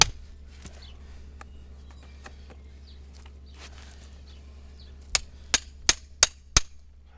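A farrier hammers nails to tack a horseshoe onto a horse's hoof, five sharp metallic strikes in quick even succession after a quiet stretch with a low steady hum underneath.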